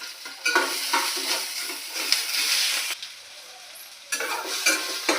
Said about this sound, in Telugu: కట్ చేసి పెట్టుకున్న టమోటా వేస్తాను నేను స్టవ్ పైన